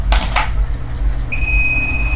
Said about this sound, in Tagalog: Ayan, nag-alarm na.